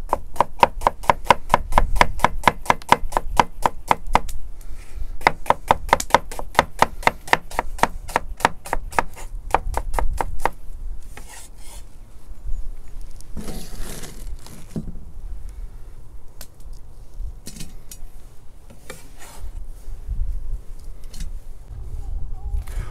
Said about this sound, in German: Die Zwiebel zerhacken wir.